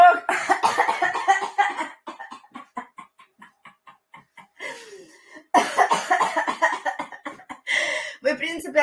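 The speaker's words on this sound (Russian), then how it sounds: "Вы, в принципе, откашливание можете делать всегда," During a laughter yoga session, a group coughs and clears their throats in loud, close bursts, with quieter breathing sounds in the pauses between.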